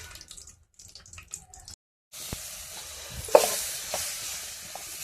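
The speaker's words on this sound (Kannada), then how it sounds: "ಇದೇ ಬೊಗಣೆಗೆ ಒಂದಿಷ್ಟು ಎಣ್ಣೆ ಹಾಕಿ ಕೊಬ್ಬರಿ ಹುರಿದು ಬಿಡ್ಲತ್ತೀನಿ" Dried coconut frying in oil in a pan, with quiet clinks during the first two seconds, then a steady close sizzle that rises sharply midway and carries light scraping from stirring.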